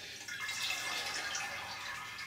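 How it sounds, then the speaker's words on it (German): Water poured out of a container holding a plant cutting, a steady soft trickling and splashing that runs alone for a couple of seconds at close range. "Und das Wasser gieße ich jetzt erstmal raus."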